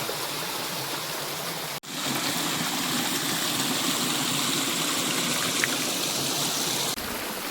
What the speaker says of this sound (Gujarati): ઝરણું છે